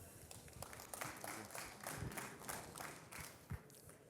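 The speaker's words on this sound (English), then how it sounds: "So give these guys a round of applause" Audience applause at an elevator industry talk on the Turkish market: a steady wash of many hands clapping through the whole stretch, moderately loud, with a few sharper individual claps standing out near the end.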